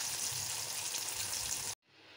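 Tomato slices fry in hot oil with a steady, dense sizzle, loud and close, as part of preparing a katla fish soup; the sizzle cuts off abruptly near the end, leaving only a faint background hiss.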